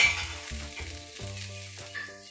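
Grated coconut with a spoonful of fennel seeds sizzles and crackles steadily in a hot pan, with stirring scrapes breaking the frying noise at intervals; no voices.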